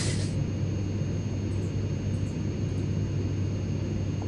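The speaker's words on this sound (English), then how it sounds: "Now the plane is hurtling towards the ground, and you explode to a fiery death." A steady, loud aircraft drone from an airplane in a Minecraft map, a continuous engine roar and rushing noise that stays level throughout with no talk.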